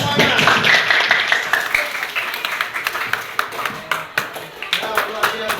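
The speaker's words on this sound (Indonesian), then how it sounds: "Kita berikan aplaus untuk semuanya." An audience at a school award event applauds the winners, a dense wash of clapping that gets sparser and more uneven, with loud individual claps standing out near the end.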